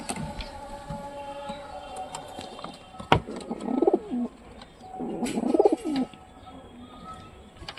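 Pigeons in a loft give two clear rounds of low, throaty cooing, close and fairly loud, separated by a short pause, with faint background noise and no speech.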